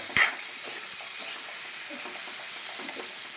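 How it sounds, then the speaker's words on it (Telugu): Egg tomato curry simmering in a pan, with a soft steady sizzle and a few faint stirring scrapes, and a brief louder clink near the start and end. "ఒక్కసారి మంచిగా కలుపుకొని ఇంకొక ఐదు నిమిషాలు దీన్ని మంచిగా మగ్గనియాలి"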